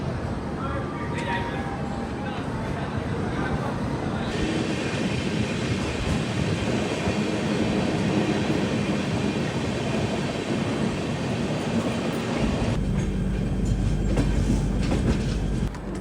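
A Vande Bharat Executive class train runs along the rails on the Varanasi to Agra route, a steady loud rumble with clickety-clack heard from inside the carriage, continuing under a voice talking.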